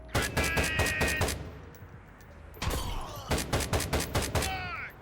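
A squad's guns fire in Door Kickers 2: a rapid, loud burst of shots, a brief lull, then a second volley of gunfire.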